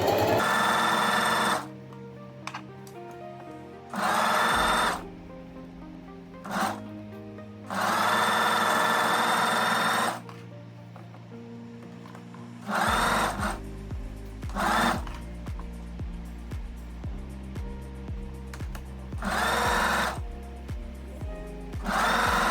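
Sewing machine stitching fabric for a gathered-waist summer dress with puff sleeves, running in several loud bursts of steady motor whir with short quiet pauses between, close up and alone.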